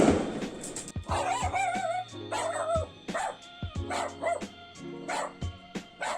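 A dog barks repeatedly in short bursts, some yips and whimpery tones mixed in, fairly close and insistent, with no people talking.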